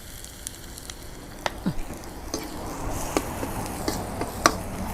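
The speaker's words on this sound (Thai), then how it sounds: "ผัดให้หอมเลยนะคะ ผัดสามเกลือให้หอมเลย" Garlic stir-fried in vegetable oil in a pan for a sea bass with black pepper dish, giving a steady soft sizzle with scattered sharp clicks and scrapes of a utensil, close and moderately loud.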